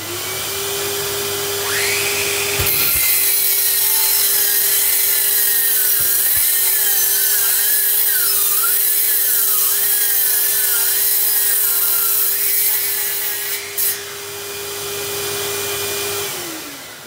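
A Dewalt DCS365 cordless mitre saw cuts a 7 by 4 piece of dry wood. The motor spins up to a loud, steady whine, the blade grinds through the wood for about fourteen seconds, then the motor winds down. No one speaks.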